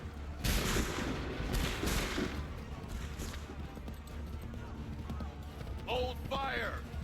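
Musket volley fire in Assassin's Creed 3, loud cracking shots bursting together near the start and again a second later, followed by a rumbling echo, with a voice speaking toward the end.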